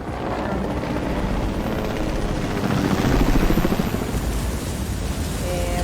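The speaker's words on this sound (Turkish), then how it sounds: "Tamam bak helikopter almam iyi oldu." A helicopter in the Fortnite video game thrums with a loud, steady rotor chop close by, swelling briefly in the middle before settling back to a constant drone.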